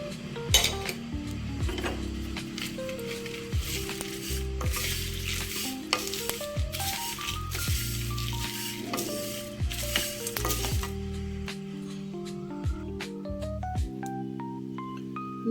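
Cumin, coconut pieces and sesame seeds roast in a pan for a karam podi spice powder, with sizzling and frequent scraping stirs against the pan over a steady tonal background. No one talks.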